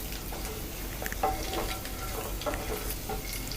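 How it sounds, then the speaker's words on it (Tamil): Egg masala with chili powder, turmeric and salt frying in a pan, a continuous close sizzle broken by spatula stirring scrapes and small bubbling pops, with no talk. "இன்னும் ஒரு நிமிஷம் நல்லா ஃப்ரை ஆகட்டும்"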